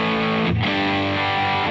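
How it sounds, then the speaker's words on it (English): An electric guitar through an Amplitube 5 diode overdrive pedal placed after a compressor, sustained distorted chords ringing loud and close, with a brief break and re-strike midway, no talk. "let's try this diode overdrive, and I'm going to load it after the compressor"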